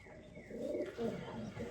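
Young 2025 baby pigeons cooing softly in a loft, a quiet, brief run of low coos up close with faint rustling.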